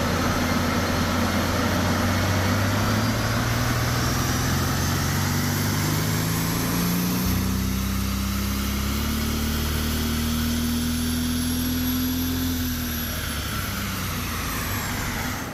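A Mercedes CL65 AMG engine pulls hard through third gear, a loud steady roar rising smoothly in pitch for several seconds, then easing off near the end under constant wind and road noise.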